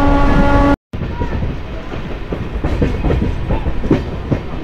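Riding the Howrah–Purulia MEMU local, a brief horn blast cuts off, then the running train fills the car with a loud, steady rumble and rhythmic wheel clacks over the rails.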